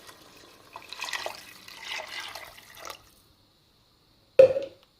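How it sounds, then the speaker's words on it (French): A litre of water poured into Moroccan barley semolina soup, a gentle splashing pour for about two seconds followed by silence and a brief clink or splash near the end, close and quiet. "J'ajoute 1 litre d'eau"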